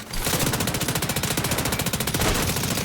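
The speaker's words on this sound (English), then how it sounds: "here's what the explosion now sounds like after this recent patch." The patched Warhound robot dog death explosion in The Division 2: a loud burst of rapid-fire, machine-gun-like crackling detonations rattles steadily for a few seconds, a fast pulsing synthetic explosion with no voices.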